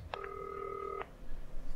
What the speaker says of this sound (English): Ooh, I get a phone call.